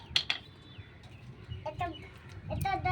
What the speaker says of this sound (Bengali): দেখ কত কাকগুলো